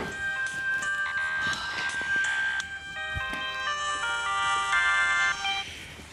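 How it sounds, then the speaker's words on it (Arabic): A mobile phone rings loudly with a bright electronic melody that plays on for several seconds in a home, with no talking over it. "ايه تليفوني بيرن"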